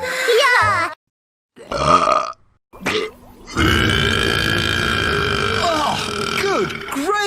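Cartoon characters, female, let out a string of burps: short separate belches early on, then a longer drawn-out gurgling burp, with brief cartoon voices and sound effects between them.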